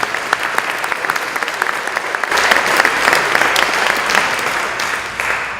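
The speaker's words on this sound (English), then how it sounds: "So Suzanne deserves 2 introductions and 2 rounds of applause." Gala awards audience applauding in a large hall, a dense, steady round of clapping from many hands that swells midway and holds without pause before tapering slightly.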